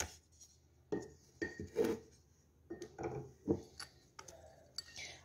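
Ginger garlic paste goes into a large bowl for chicken tikka boti, with several distinct clinks and knocks of a spoon against the bowl, close and fairly crisp, spaced irregularly in a quiet kitchen.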